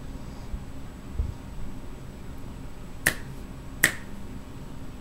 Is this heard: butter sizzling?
no